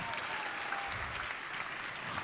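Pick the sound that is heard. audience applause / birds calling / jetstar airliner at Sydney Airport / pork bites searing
audience applause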